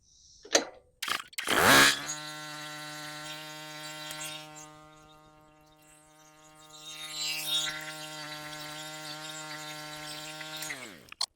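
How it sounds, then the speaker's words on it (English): A lawnmower engine sputters, then catches and holds a steady droning hum that rises in pitch partway through before cutting off at the end. "Let's see if my lawnmower can do this."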